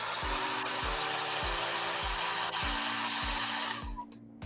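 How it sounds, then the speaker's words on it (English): A hair dryer blows loudly and continuously with a broad rushing whoosh, drying weathering pigments on model armor, while a low repeating thump runs underneath, then the airflow cuts off at the end. "Kick this with a hairdryer."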